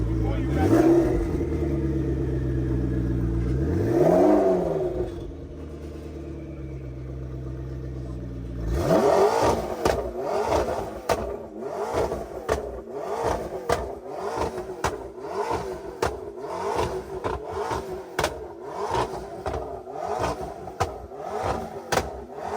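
A car engine idles with a deep rumble, then settles and is revved repeatedly in quick bursts, each rev rising and falling close by, while a person talks over it.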